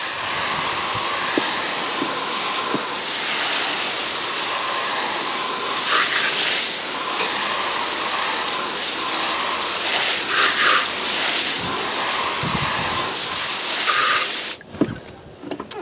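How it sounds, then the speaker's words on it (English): A pressure water spray hisses steadily and loudly up close, rinsing cleaner product off old truck tires, with brief splattering shifts, then cutting off near the end. "let me simply rinse off the product and see what we get"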